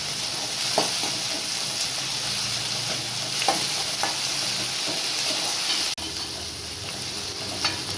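Onion, garlic and fennel seeds sizzle and fry in oil in a pan, a continuous crackling hiss broken by a few sharp stirring clinks and scrapes, close and steady.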